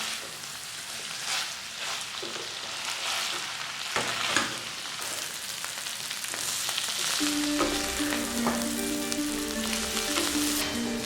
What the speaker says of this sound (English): Now this cauliflower is fried.